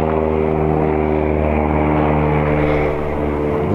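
A propeller airplane drones steadily and loudly overhead, a continuous thick rumble with layered engine tones that barely changes over a few seconds.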